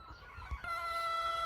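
Chickens on a house-truck homestead cluck and call close by, a few short throaty clucks followed by a sustained, faint crowing-like tone, with no talk over them.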